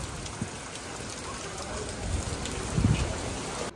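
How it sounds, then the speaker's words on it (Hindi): Heavy rain pours steadily in Malaysia, a dense, even hiss of drops on surfaces heard close and alone, with a slight swell toward the end. "बहुत ज़्यादा बारिश हो रही है"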